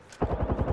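Apex Legends gunfire on Xbox Series X, a burst of rapid automatic shots in quick, even succession, loud and close, with no speech.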